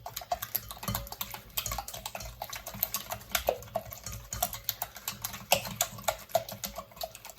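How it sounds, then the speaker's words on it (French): Eggs are whisked by hand in a bowl until pale, a fast, steady patter of close, crisp clicking strokes that runs throughout. "Fais blanchir les œufs."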